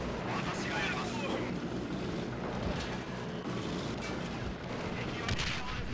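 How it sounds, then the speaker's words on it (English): Mortar and artillery fire in a Men of War battle, booming shots layered over dense, continuous game noise with people talking over it. "Get my mortar on that bastard."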